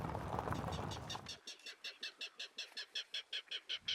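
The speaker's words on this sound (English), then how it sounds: "Clapper rail just called" A clapper rail calls from a salt marsh, a rapid series of harsh, evenly spaced clacking notes, moderately near, following a brief burst of rustling noise.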